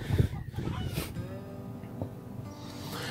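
Chickens cluck a few times near the start, then soft low clucks continue over a steady outdoor background.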